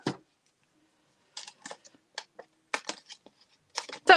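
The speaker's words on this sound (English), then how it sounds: "So I'll just cut up the pieces here." Paper pieces being cut with scissors for a Stampin' Up! Perennial Lavender card, heard as a few short, crisp snips in small clusters, close and quiet, with a faint breath or voice at the start and near the end.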